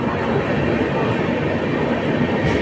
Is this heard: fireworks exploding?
no